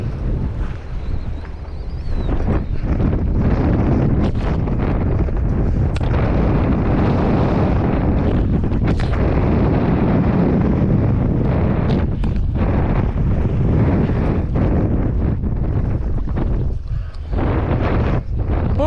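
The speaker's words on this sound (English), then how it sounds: "It is f***ing windy." Strong wind blows along a saltwater shoreline during tautog fishing. It makes a loud, constant roar that batters the microphone, with rumbling gusts and a faint wash of surf underneath. The sound lasts the whole stretch with no voices over it.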